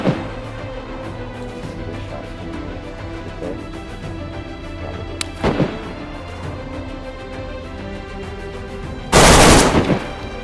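Gunfire in a survival shooter game: a few scattered shots early, then a loud burst of automatic fire near the end, over a quiet game ambience with no talking.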